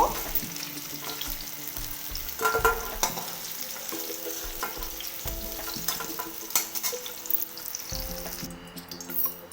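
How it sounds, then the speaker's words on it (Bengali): Pumpkin and cut potatoes frying in hot oil, a constant crackling sizzle with intermittent stirring and scraping knocks in the pan, no voices. "আবারও ওই তেলে দিয়ে দেব কেটে রাখা আলুগুলো"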